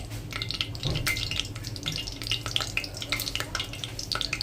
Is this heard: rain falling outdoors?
no